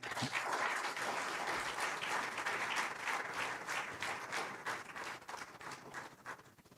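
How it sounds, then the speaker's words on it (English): An audience at a knowledge management session and open forum gives a speaker sustained applause, steady dense clapping that holds for several seconds, then thins and grows more uneven toward the end. "Ladies and gentlemen, this time it should be a thunderous applause."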